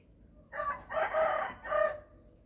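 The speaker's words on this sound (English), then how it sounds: "got woken up by chickens" A rooster crows in a few drawn-out bursts in rural Thailand, clear and fairly close, with a quiet background between calls.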